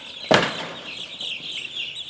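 Young straight-run chicks about 11 days old on a farm give one sharp loud squawk or flutter, followed by soft continuous high peeping in the background.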